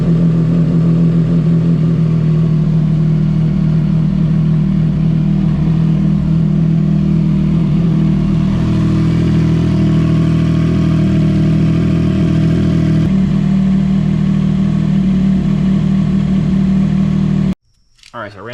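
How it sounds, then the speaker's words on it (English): A CFMOTO 675SS sport motorcycle engine fired up and left running, a steady loud idle with slight shifts in tone, close by, ending abruptly near the finish. "So we're gonna start the bike."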